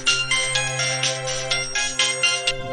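Incoming-call phone ringtone, a bright electronic melody of repeated short tonal notes over a steady low hum, moderately loud and heard alone without any talk.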